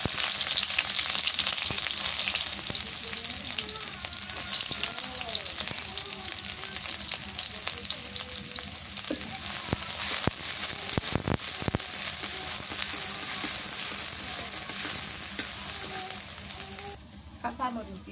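Chopped onions fry in hot oil, giving a loud, steady, close hiss that runs almost the whole time, with a few occasional stirring clinks and then a sudden drop near the end.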